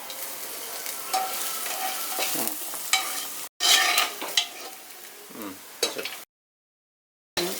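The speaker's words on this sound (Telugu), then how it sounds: "ఈ ఉల్లిపాయలు పచ్చిమిరపకాయలు ఇవి దోరగా ఒక 5 నిమిషాలు వేపుకుందాం." Onions and green chillies fry in a pan for an Indian bottle gourd tomato curry, a steady close sizzle broken by repeated scraping stirs of a spoon against the pan, ending in a short silence.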